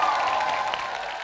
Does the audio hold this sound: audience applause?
yes